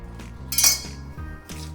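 A metal garlic press squeezing fresh garlic cloves in a home kitchen gives a few close, short metallic clicks and clanks, with a brief louder crunching burst in the middle and no talk.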